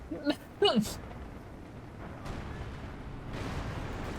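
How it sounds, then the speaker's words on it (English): Calliope and Panzerwerfer rocket artillery fire in Company of Heroes 2, a 4v4 match on the Port of Hamburg map: a few sharp bursts in the first second, then a low rumbling battle din beneath a commentator's voice. "Calliope and Panzerwerfer just shooting at about the same area."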